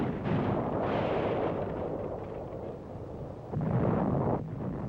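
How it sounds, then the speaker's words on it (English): Heavy artillery fire shells a church in Linnich during the WWII winter offensive, a dense, continuous rumble of blasts with a louder surge near the end, captured as muffled newsreel-era sound. "A church, apparently taken for an Allied OP, comes under heavy Nazi artillery fire."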